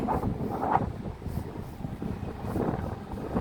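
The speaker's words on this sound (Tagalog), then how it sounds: "Windy today." Gusty wind buffets the microphone on the seafront at Blackpool North Shore, a rough low rumble swelling and easing in uneven surges with no voices.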